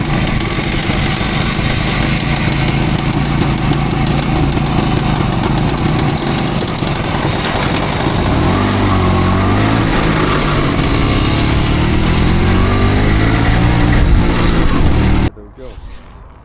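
An old IZH motorcycle, back on the road after 25 years, runs with a steady loud engine drone and rumble for most of the stretch, with faint talk mixed in, before cutting off abruptly near the end.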